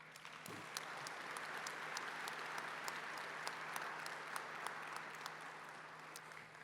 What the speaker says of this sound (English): we can still give her a round of applause